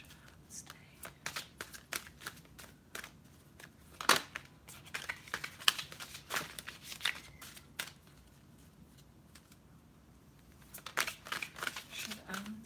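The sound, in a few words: shuffling cards for a reading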